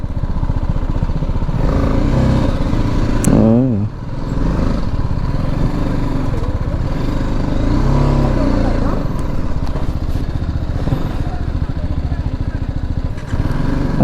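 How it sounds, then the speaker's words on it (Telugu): Motorcycles pass close by on a road, a steady mid-pitched engine drone throughout with a couple of louder swells as bikes go past, mixed with clatter and some voices in the background. "బైక్స్ పోతాయి. బైక్స్ వెళ్తాయి"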